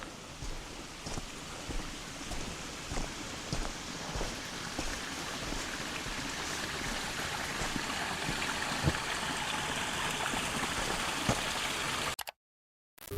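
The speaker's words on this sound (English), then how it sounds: "It's hard to hear with the sound of this water." Flowing water in a forest setting, a steady broadband rush and trickle like a stream, constant and moderately loud throughout before cutting out abruptly near the end.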